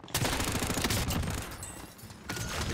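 A death machine firing in Call of Duty Warzone, a dense, continuous burst of rapid gunfire that briefly thins and then resumes, loud and near.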